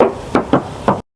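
Four sharp knocks on the painted steel body panel of a 2022 Mitsubishi Xpander Cross with automatic transmission, close and solid-sounding, evenly spaced with no talk.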